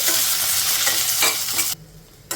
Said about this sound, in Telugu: ఇప్పుడు మీడియం ఫ్లేమ్లో ఇలా కలుపుకుంటూ 1 నిమిషం ఫ్రై చేసుకోవాలి.